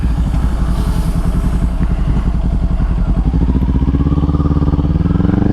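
A Kawasaki Ninja 400 motorcycle being ridden, its engine droning loud and close with a rapid pulsing rhythm that climbs in pitch toward the end.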